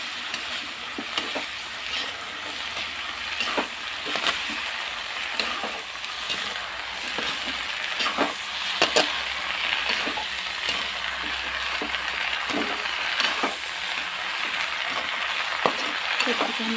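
Baakla (broad beans) are stirred in a cooking pot over a steady sizzle, with scraping, knocking strokes of a spoon recurring throughout and a voice speaking faintly underneath.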